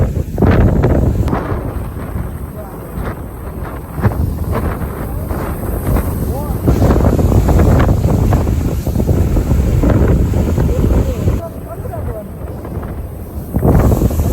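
Sea water surging under pressure out of a seaside cave at a shoreline temple, a steady loud roaring wash with gusty wind buffeting the microphone and someone talking over it.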